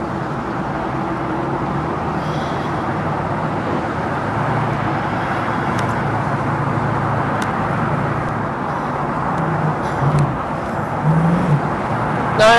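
A 1937 Ford custom street rod cruising northbound on a freeway, heard from inside as a steady loud engine drone and road roar that swells slightly as it accelerates.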